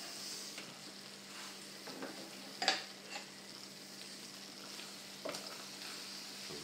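Vegetables and crème fraîche d'Isigny stirred in a frying pan for a mixed vegetable sauté, a soft steady sizzle with a few faint scrapes of the spoon, one brief clink in the middle.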